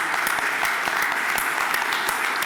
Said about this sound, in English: I think you deserve a round of applause from all of us for what you have done.